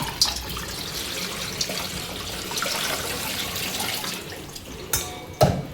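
Tap water pours steadily into a pot in a home kitchen, a soft continuous stream with a few light knocks of the pot near the end.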